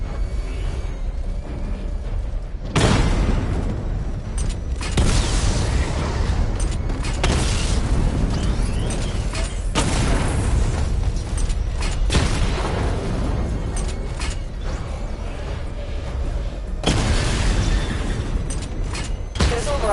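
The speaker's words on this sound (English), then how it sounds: "Charge the missile barrage to level 2 to destroy up to 4 targets at once." Heavy missile barrage explosions in Batman: Arkham Knight come as repeated loud booming blasts, several big bursts separated by short lulls, with a steady rumble carrying through.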